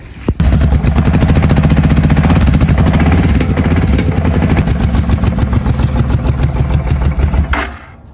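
An abandoned Kawasaki KFX700 sport quad, with rainwater in the exhaust, cranks and fires into a loud, rough, rapid idle that chatters and pops steadily at close range before cutting off abruptly.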